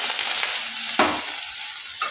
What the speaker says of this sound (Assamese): মই পিঁয়াজখিনি ভাজি আছোঁ